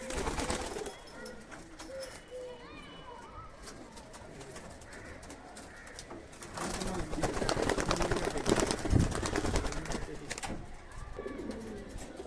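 High-flying pigeons released at a home loft in Katwa: close, continuous cooing with scattered wing flaps, growing busier partway through, with a voice speaking now and then.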